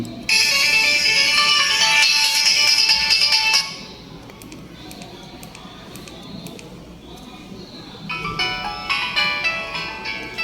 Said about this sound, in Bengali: দেখেন এই রিংটোনগুলোর সাউন্ডগুলো শোনেন